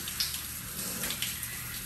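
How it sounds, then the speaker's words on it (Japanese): A shower runs steadily in a locker room after a lost match, its water spray making a continuous close hiss that does not break for the whole short stretch, with no voices. "自分のシャワー浴びてるとこ"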